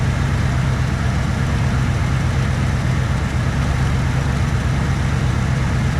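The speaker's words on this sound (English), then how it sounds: "I got an exhaust leak, as you can hear." Old truck engine idling at its first start-up of the season, with an exhaust leak, a steady loud low rumble that holds unchanged and close with no talk over it.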